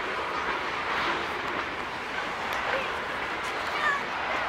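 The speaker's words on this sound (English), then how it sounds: "There's a big train going by right now, so it's kind of loud, but James has been chasing friends already." A big train passes by a park, giving a continuous loud rumbling roar that swells slightly, with faint voices in the background.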